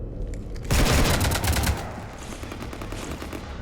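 A loud burst of rapid automatic gunfire in the video game Mass Effect 3, a dense rattling volley lasting about a second that fades into a rumbling tail.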